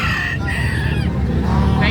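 Two roosters crow in long, strained calls over a low rumbling background, close and loud, one call overlapping another.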